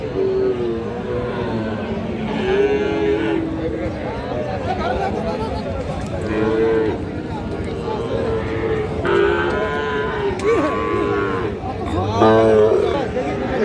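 Sahiwal bull calves moo repeatedly at a cattle market, some low and drawn out, amid a busy outdoor crowd with people talking and chattering all around.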